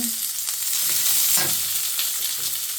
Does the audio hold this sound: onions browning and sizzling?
yes